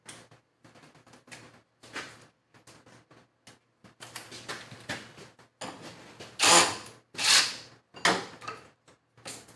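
A DeWalt XR or Milwaukee Fuel impact driver snugs up a fastener in short, sharp rattling bursts separated by pauses, the loudest bursts coming in the latter half, close and fairly loud.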